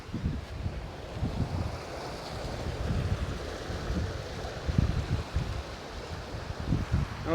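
Rough, churning sea water surges in a continuous roar of waves and wind noise, loud and close with no voices.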